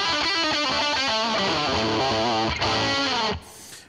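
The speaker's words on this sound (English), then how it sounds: "I have a lot of gain on the guitar. So this one, actually, more distortion the better" Electric guitar with heavy high-gain distortion plays a lead lick, loud sustained bent notes and fast runs that cut off abruptly near the end.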